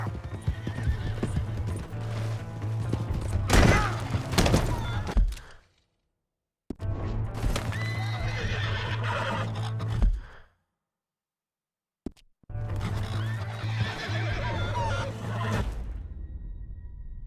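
A horse in the video game Red Dead Redemption 2 gallops with rapid clip-clop hoofbeats and loud whinnies, in three separate bursts broken by short silences.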